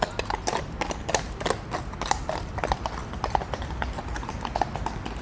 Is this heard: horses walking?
yes